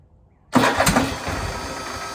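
A Kohler engine on a 2015 Craftsman Pro 8300 riding mower cranks over from silence through a replacement starter, with a sudden loud onset and then a steady, rough, churning engine drone close by.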